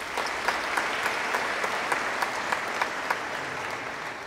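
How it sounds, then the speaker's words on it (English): Steady applause from a graduation ceremony audience honoring retiring school staff, a dense wash of many hands clapping evenly for several seconds, heard from a distance at moderate volume with no voices over it. "we honor them with our applause"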